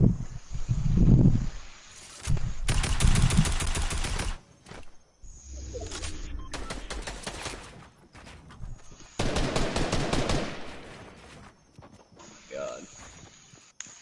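Bursts of rapid automatic gunfire and footsteps from players fighting in the video game Fortnite, several sustained volleys in the game mix while players talk over them.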